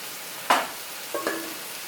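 Spoon stirs chicken through vindaloo spice paste in a frying pan, one sharp scrape followed by two softer ones close up, with faint sizzling underneath and no talking.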